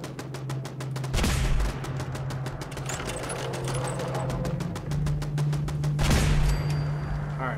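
A powerful weapon in Fallout 4 fires in a steady, rapid string of loud shots, close and continuous with a couple of heavier booms mixed in. There is almost no talk.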